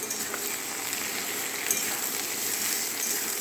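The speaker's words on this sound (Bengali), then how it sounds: "পেঁয়াজগুলো দিয়ে এবার ভাজি।" Onions fry in a pan after jackfruit, a steady loud hiss of sizzling oil close up, unbroken throughout.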